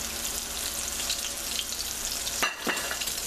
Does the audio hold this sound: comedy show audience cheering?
no